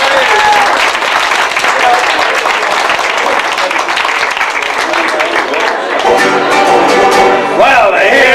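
A round of applause breaks out at a 50th birthday celebration, a dense, steady patter of clapping from a roomful of guests, with voices mixed in and a singing voice emerging toward the end.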